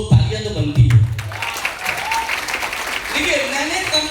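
A crowd at a company event in India claps loudly for the management, with someone speaking over the applause as it continues throughout.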